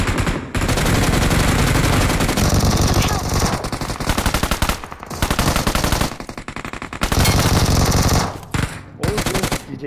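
Rapid automatic gunfire bursts from PUBG Mobile, loud and near, with dense machine-gun volleys broken by short pauses and a few quieter gaps across the clip.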